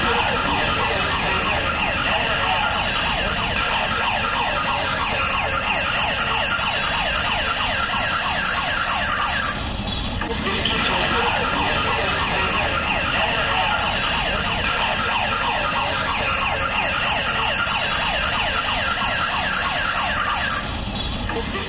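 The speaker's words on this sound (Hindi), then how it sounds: "लाल किले में सायरन बजा करके लोगों को अलर्ट भी किया जा रहा है" A wailing emergency siren at Delhi's Red Fort alerting people after a blast rises and falls continuously over steady traffic noise, loud and persistent throughout.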